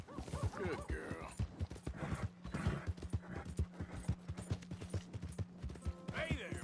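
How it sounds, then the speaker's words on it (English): Horse hooves clip-clop in a steady rhythm through a PS4 video game scene, with a brief whinny near the end and game characters talking over the hoofbeats. "Hey! My horse!"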